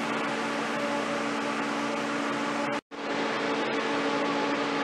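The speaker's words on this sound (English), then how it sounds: "Switch on the radial fan and run the air velocity at the maximum airspeed." A radial fan in a refrigeration and air-conditioning lab runs at maximum airspeed, a loud steady whooshing roar with tonal hum, broken by one abrupt brief dropout near the middle before resuming.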